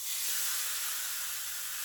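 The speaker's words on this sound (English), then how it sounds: "Good sizzle." Top round steak sizzles steadily in a hot pan around 350 degrees, a close, continuous hiss that holds for the whole moment with no talk over it.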